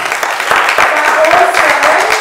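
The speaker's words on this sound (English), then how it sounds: "So a round of applause for Emmanuel." Listeners at a business lecture about the Parthenon applaud a man named Emmanuel, a brief burst of brisk, loud clapping from a crowd with voices mixed in over the top.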